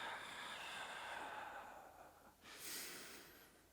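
A long, breathy exhale during a Pilates breathing exercise, soft and close, tapering off before a short sharper breath near the end; no talking over it.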